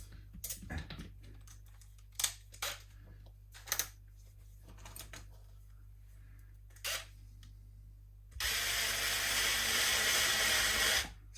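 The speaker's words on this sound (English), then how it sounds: "Some people get very freaked out by using a power tool to do these kinds of pickguard screws" Pickguard screws on a Mexican-made Fender Stratocaster in Candy Apple finish are handled with a few sharp, separate clicks and taps, then a close power driver whirs steadily for about three seconds.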